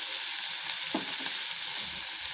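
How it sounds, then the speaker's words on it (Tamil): Onion and tomato sauté in a pan, giving a soft, even hiss with a single spatula scrape partway through. The sound is fairly quiet and close, with no talking. "வதக்கிட்டு வெங்காய தக்காளி நல்லா வதக்கிட்டு"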